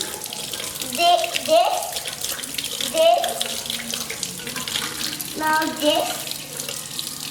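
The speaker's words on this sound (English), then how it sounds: "then rub like this. Wash your hands." A tap runs steadily into a sink while hands are rubbed with soap, the water hiss continuous at moderate level, with a voice speaking briefly over it.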